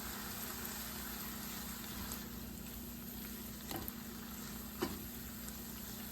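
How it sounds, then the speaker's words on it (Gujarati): Cornflour slurry stirred into Manchurian gravy in a pan: a continuous soft bubbling sizzle with faint scraping, steady and fairly quiet, broken by a couple of brief clinks. "કોર્નફ્લોરની સ્લરી બનાવી છે તે આપણે અંદર એડ કરીશું અને હવે મિક્સ કરીશું બરાબર"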